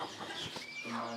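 Traditional and feather-legged chickens cluck on a poultry farm in Nkolfoulou, a dense mix of overlapping bird calls heard close and loud for a brief moment.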